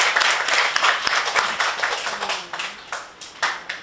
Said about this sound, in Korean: 여러분들 큰 박수로 환영해 주시기 바랍니다